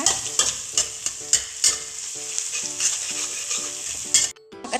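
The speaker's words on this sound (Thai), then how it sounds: "จะเจียวกระเทียมของเราให้หอมเหลืองเลยนะคะ" Chopped garlic frying in hot oil until golden, a bright continuous sizzle with repeated scraping strokes of a spatula stirring the pan, close and clear, ending abruptly.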